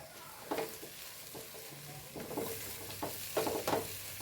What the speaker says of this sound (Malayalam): ഇനി ഇതൊന്ന് നല്ലോണം ഇളക്കി കൊടുക്കട്ടെ കേട്ടോ